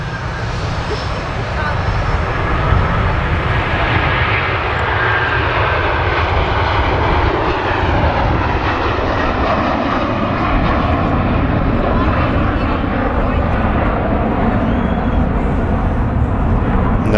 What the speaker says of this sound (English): I love the sound of the 330s.